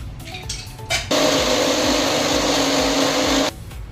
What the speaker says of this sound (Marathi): आता आपण हे ब्लेंड करून घेऊया।